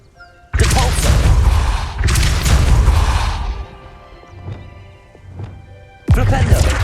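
The Depulso force spell in the Hogwarts Legacy video game lands in loud, heavy bursts. Two long blasts are followed by fainter thuds and clicks, then another loud burst at the end.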